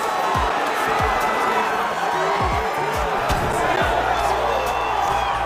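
A UFC arena crowd cheers and applauds loudly and continuously after a grappling exchange in a light heavyweight bout, with scattered whoops and shouts rising over the steady roar.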